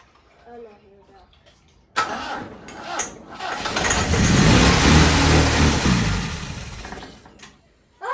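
A vintage Klein Greenbean car engine cranks and catches abruptly, then runs roughly and loudly for several seconds with uneven surging before dropping off and restarting; quiet talk is heard before it starts.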